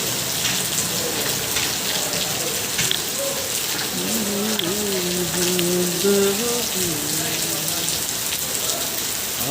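Heavy rain pours steadily at a truck terminal, a dense, loud hiss of drops on surfaces throughout, with a brief voice speaking faintly beneath it midway.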